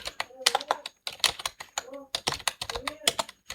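Rapid bursts of keystrokes on a computer keyboard while typing in Microsoft Word. The clicks land in uneven clusters and sound close, with someone speaking Hindi quietly underneath.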